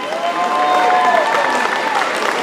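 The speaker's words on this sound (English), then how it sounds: "Let's give another round of applause for them." An audience gives a round of applause for performers at a Passion Play grand finale, clapping blended with crowd noise and some cheering, while a sustained musical tone runs underneath.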